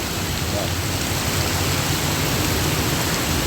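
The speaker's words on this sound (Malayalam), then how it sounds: "നല്ല മഴ പറഞ്ഞ പെരും മഴ" Steady, dense downpour of heavy rain on a national highway, a constant broadband hiss with a low rumble underneath, unbroken from start to finish.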